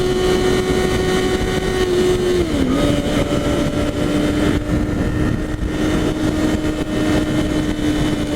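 A 2014 Yamaha R6 sport bike runs at highway speed around 70 mph and just above 6,000 RPM, its steady high engine whine dipping briefly as the revs shift, with wind roar throughout.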